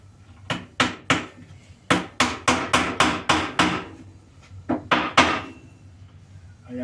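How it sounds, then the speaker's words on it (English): Nails hammered into wood while working in a garden: sharp, close, loud blows in three runs, a quick few, then a steady string of about eight, then three more, with short pauses between. "I'm going to nail them down"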